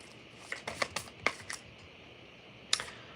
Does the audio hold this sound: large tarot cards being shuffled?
yes